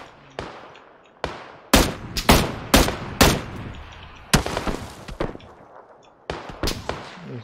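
Gunfire in PUBG: a series of sharp, loud shots, some single and some in rapid clusters, cracking out at irregular intervals with short echoing decays between them and no talking.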